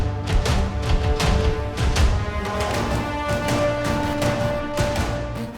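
A music cue heavy with low percussion plays loud and dense throughout, deep booming hits driving a steady rhythm under sustained tonal layers, with no voices.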